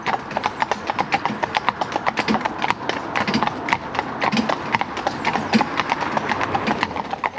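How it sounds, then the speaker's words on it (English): Horse hooves clip-clop steadily on a hard surface, close and loud, in an even continuous rhythm of many strikes with no voices over them. "So this horse here"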